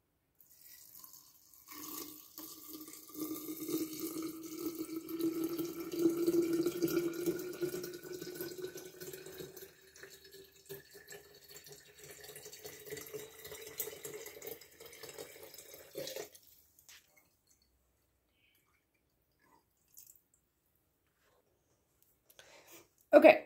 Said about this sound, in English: we're going to top it off with some filtered water